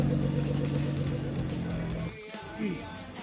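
A Nissan GT-R at a car meet produces a deep, steady engine drone with a prominent low harmonic hum, cutting out abruptly about two-thirds through before a brief rise, heard close with ambient crowd noise.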